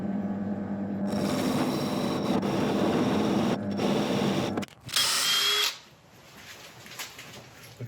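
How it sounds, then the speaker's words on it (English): A power drill bores a hole for a worm screw into an elm bowl blank, a loud steady whine for several seconds that stops abruptly, followed by a brief burst of hiss and then quiet. "Okay, so we've drilled for a worm screw"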